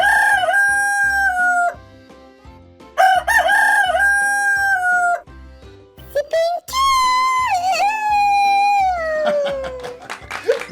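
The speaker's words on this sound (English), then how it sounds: "They are known for their loud crowing in the morning" A rooster on a farm crows loudly in repeated long, wavering calls with breaks between them, close and dominant, with voices speaking in the gaps.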